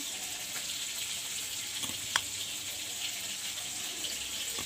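A steady sizzle of chopped chillies, garlic and onion frying in a pan, a continuous hiss with a few faint clinks and no talk.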